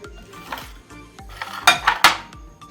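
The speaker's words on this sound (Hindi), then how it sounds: "इनको इकट्ठा सबको कर लेते हैं, मिक्स करके एक मसाला तैयार कर लेते हैं" A spoon mixes dry spices into a masala in a bowl for an onion salad, making a series of clinks and scrapes on the dish, irregular and close, that build to several sharper knocks.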